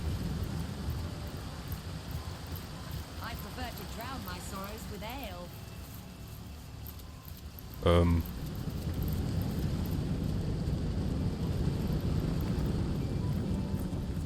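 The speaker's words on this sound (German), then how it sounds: "Scheinbar regnet es hier." Steady rain falling in the fantasy role-playing game Divinity: Original Sin, a continuous broadband hiss that grows slightly louder later on. Someone speaks over it, and a brief sharp sound cuts in midway.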